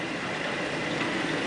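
A new-old-stock Gentleman Janitor GJ 51 coal stoker, its blower area stuffed with mouse nests, runs with a steady, even whirring hum close by, without pauses or voices.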